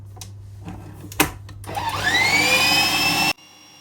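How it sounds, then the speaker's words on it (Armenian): An electric mixer starts up and whirs steadily through cake batter for red velvet cake, its motor pitch rising as it spins up, running loud and close for about two seconds before cutting off abruptly. "Սկսում ենք հարել։"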